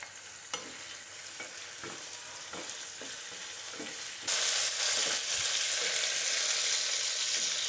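Sliced onion and green chilies frying in a pan, steady sizzle with intermittent scraping stirs, the hiss jumping louder midway as more goes in, close and continuous with no talk.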